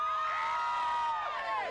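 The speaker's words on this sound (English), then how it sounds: "You could probably hear the crowd behind us" A large crowd cheers and whoops just after a total solar eclipse, shrill voices sustained loudly throughout with rising and falling shouts.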